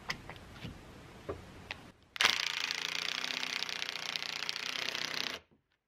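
A power drill drives 2.5-inch Torx screws into door trim in a workshop. A few sharp clicks come first, then about three seconds of steady, close whirring before it stops.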